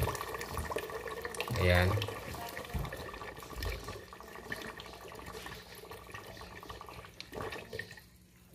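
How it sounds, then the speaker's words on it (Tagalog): Water draining through the siphon of a small DIY aquaponics setup, a trickling, gurgling flow with a louder surge early on before easing, while a person speaks briefly. "Ngayon lumakas na po yung tulo. Yung siphon is gumagana na."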